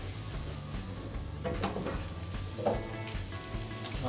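Meat sears in a very hot pan with rosemary butter, producing a steady, close crackling sizzle with slight swells and no talking.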